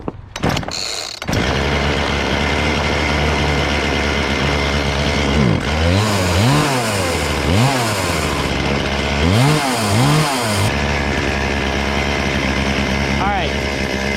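A small two-stroke engine running steadily while warming up before idle adjustment, a loud buzzing drone throughout with several rising-and-falling revs as the throttle is blipped, and a voice speaking briefly near the start.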